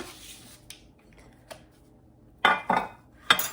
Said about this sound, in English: We're gonna put this down into our pan here.